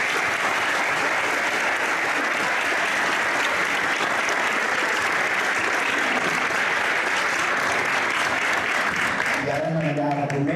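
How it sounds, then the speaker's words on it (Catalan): Sustained, dense applause fills a hall at a literary festival as an audience honours young participants, a loud unbroken wash of many hands clapping that fades near the end as a voice begins speaking. "m'agradaria que féssim aquest fort aplaudiment a tots aquests joves"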